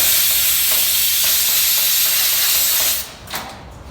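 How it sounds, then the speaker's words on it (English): An air nozzle blows excess separator off a surface in a loud continuous hiss lasting about three seconds, then cutting off into quieter handling sounds. "you can just blow it off a little bit with the air nozzle"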